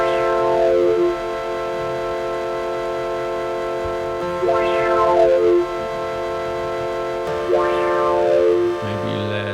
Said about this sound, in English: Here's a scrambler. Let's give that a listen.